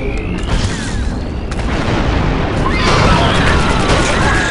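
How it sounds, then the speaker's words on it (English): A detonating charge in Star Wars Republic Commando sets off a loud, close, rumbling explosion that stays heavy and sustained, then swells again toward the end. "The charge is set and ready to detonate."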